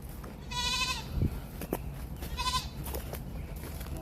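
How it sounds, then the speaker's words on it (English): A baby goat on a small farm gives two wavering, nasal bleats about two seconds apart, close and clear over a quiet outdoor background. "There's the baby goat"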